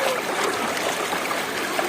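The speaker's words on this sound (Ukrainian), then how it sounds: "Отже, дивіться яка тут ріка." Knee-deep mountain river at Gordon Falls, New Brunswick, flowing steadily with a constant close rush and trickle of water over stones, with no voices.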